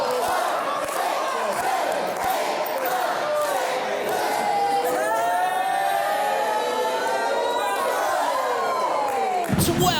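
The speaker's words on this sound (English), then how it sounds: "And now Dutch asking the crowd of Lincoln to count along with him." A wrestling crowd in Lincoln roars and chants in unison throughout, sustained loud cheering filling the arena with rhythmic voices counting along, a sharp burst near the end.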